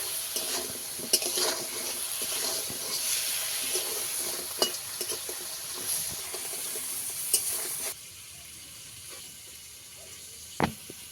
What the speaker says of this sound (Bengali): কাঁকড়াটা আমার ভালোভাবে ভাজা হয়ে গেছে